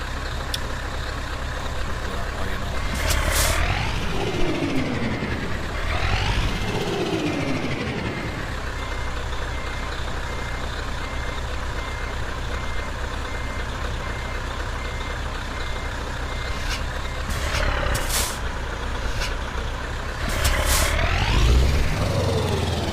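A Scania Series 4 truck reverses a trailer into a parking spot in Euro Truck Simulator 2, with a steady diesel engine rumble under repeated reversing beeps and occasional rising revs and air-brake hisses.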